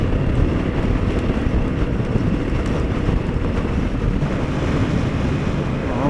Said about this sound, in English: Definitely a bit of a breezy day.